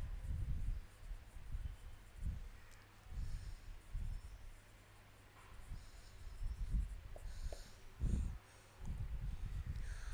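Writing out a syllable structure during a grade 7 English grammar lesson: faint, scratchy strokes come in short irregular bursts over a quiet, hissy room, with no one speaking.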